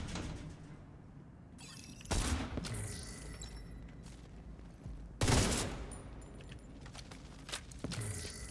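Gunfire in a video game: a couple of sharp, loud bursts of shots stand out against quiet background game sounds, each bang followed by a short decaying tail.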